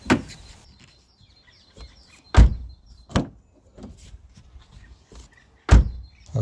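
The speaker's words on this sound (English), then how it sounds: "the opening of the door is so much easier right now" A car door with a newly replaced door stopper being worked: several sharp, close clunks and clicks spaced irregularly, with quiet stretches and faint handling noises between them.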